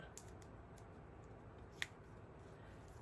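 Scissors snipping around thicker craft paper for a Halloween project, faint quick cuts with one sharper clip, over a quiet background hum.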